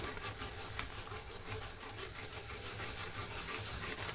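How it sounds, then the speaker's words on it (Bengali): Water boiling hard in a wok for semolina, a steady hissing, bubbling seethe heard up close with no talk, holding even and slightly brightening toward the end. "কড়াইতে জল বসিয়ে দিয়েছিলাম জলটা টকবক করে ফুটেছে"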